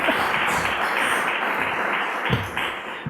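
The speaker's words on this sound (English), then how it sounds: "Now, you can clap for that." An audience at a mayor's State of the City address claps steadily and continuously, with close, dense hand claps filling the room throughout.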